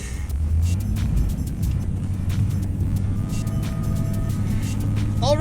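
A car drives home through a snowstorm with frozen wheels, a steady low engine rumble and road noise filling the cabin throughout, with a few faint clicks and a brief squeak near the end.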